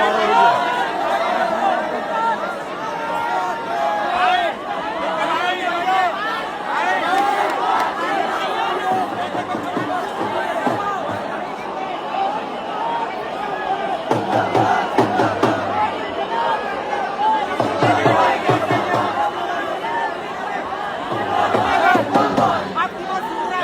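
A dense crowd shouting and yelling during a police lathi charge, raucous chatter and battle-cry surges rising and falling loudly, with a few sharp bursts cutting through the din.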